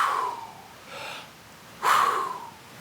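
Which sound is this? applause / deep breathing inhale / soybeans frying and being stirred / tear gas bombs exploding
deep breathing inhale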